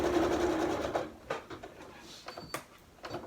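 A sewing machine runs close by for about a second as it stitches a fabric zip pouch, then stops, followed by scattered handling clicks and rustles of the fabric.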